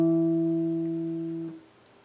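An acoustic guitar's open fifth string is plucked once and rings with a steady low tone that fades, then is damped at about one and a half seconds, leaving a faint tail.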